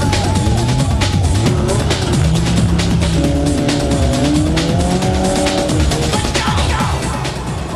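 Modified rallycross cars race on the revised Nuts Corner circuit at the 1998 Ulster event in the British Rallycross Championship, with loud, continuous engines revving and shifting and tyres squealing as several cars pass close by.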